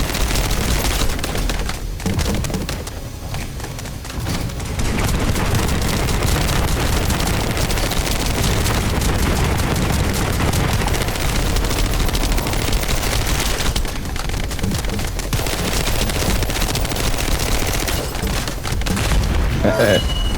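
Continuous heavy shooting and explosive booms in The First Descendant video game, a dense, loud barrage of gunfire and blasts that barely lets up, with a short lull before it resumes.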